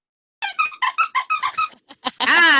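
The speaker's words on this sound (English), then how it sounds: "Squeak, squeakin', squeak, squeak" A manatee gives a rapid run of about eight short, bright squeaks, close and fairly loud, followed by a brief pause and a louder, sustained harmonic squeal at the end.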